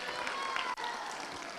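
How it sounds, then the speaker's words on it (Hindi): Applause from a church gathering, faint, steady clapping and light crowd noise with a short break midway. "जोर से तालियां इनके लिए।"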